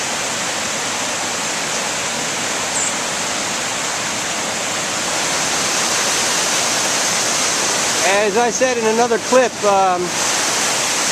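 Floodwaters of the Brandywine River rush steadily at near-record height during Hurricane Sandy, a continuous broadband roar throughout, with someone talking briefly over it near the end.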